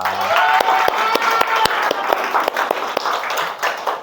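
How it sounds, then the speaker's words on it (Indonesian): An audience applauds at a teacher training event, with a dense wash of clapping and sharp individual claps continuing steadily for the whole stretch, fairly loud and close. "Kita aplaus buat kalian semua."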